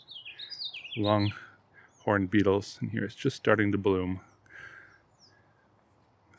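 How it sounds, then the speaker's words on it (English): House finches, lesser goldfinches and pine siskins chirp in a garden with a blooming Ceanothus. Quick high tweets come mostly at the start, then sit faintly under someone talking close by. "you got the active birds in the yard, house finches right now, lesser goldfinches, pine siskins"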